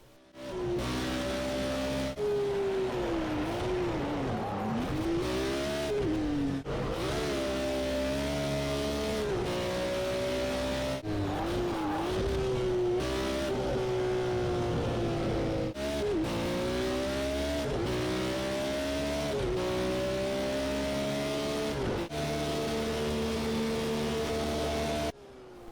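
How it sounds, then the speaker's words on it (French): A BMW M1 Procar race car engine revs hard and continuously, its pitch repeatedly climbing and dropping through gear changes and throttle blips, loud and close for the whole stretch. "ce que vous entendez, c'est les vocalises de la BMW M1 Procar."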